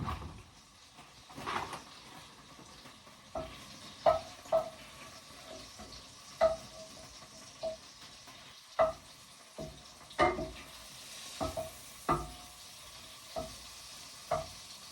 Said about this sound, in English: So it's frying time now.